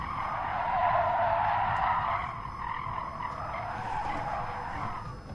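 A race car in the video game GT Sport brakes into a curve, tires squealing and skidding in a loud sustained screech that fades slightly as the engine drone continues.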